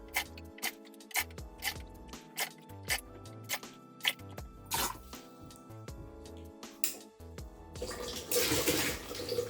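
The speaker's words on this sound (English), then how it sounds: "the pump will automatically start when the water level drop down below this green wire" An automatic water pump on a 555 timer circuit fills an overhead tank: a run of regular sharp clicks and ticks gives way to a louder rushing water sound near the end.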